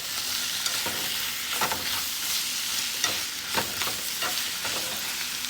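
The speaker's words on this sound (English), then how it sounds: "my rice is cooking here" Rice cooks in a pot with a steady close sizzling hiss, broken by a few soft scraping stir strokes, with no talk.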